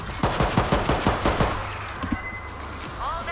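Rapid gunfire from the World War Z video game: a fast burst of about nine evenly spaced shots over the first second and a half, then a few scattered softer hits and game effects.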